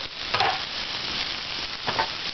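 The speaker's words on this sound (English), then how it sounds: "And you hear it sizzling?" Steady, crackling sizzle of garlic turkey kielbasa frying in a hot pan, continuous and close, with a couple of brief louder pops of stirring.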